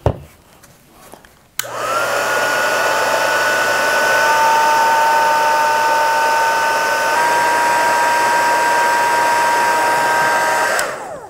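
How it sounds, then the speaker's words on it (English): A heat gun blasts hot air onto low-temperature solder held in clamps. It switches on abruptly and runs as a steady, loud whirring roar for about nine seconds, with a constant whine over it, then cuts off near the end. "And let's get that heat gun in there."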